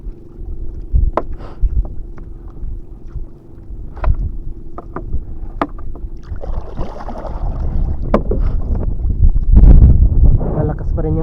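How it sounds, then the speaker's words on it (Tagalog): A small paddled boat moves over a windy sea under the strong northeast monsoon wind, with scattered splashing paddle strokes and knocks over low, rumbling wind buffeting the microphone. "Nahihirapan ako magsagwan."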